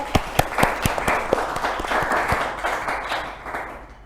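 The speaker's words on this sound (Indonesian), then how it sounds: "tepuk tangan untuk Mbak CL" Applause from a small group during a relaxed chat with two Islamic boarding school students, a few sharp separate claps at first that thin into lighter, scattered clapping and fade toward the end.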